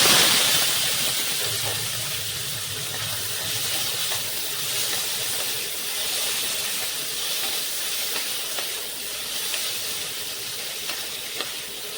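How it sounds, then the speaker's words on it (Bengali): Prawns frying in hot oil, a steady loud hiss and sizzle that holds evenly throughout without pause. "এখন চিংড়ি মাছটাকে একটু হালকা করে ভেজে নেব"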